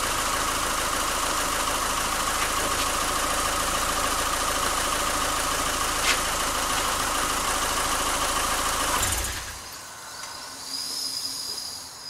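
A steady, loud car engine idle hums and hisses continuously with the idle air control valve unplugged, then drops off sharply near the end as the engine is shut off, leaving a quieter background.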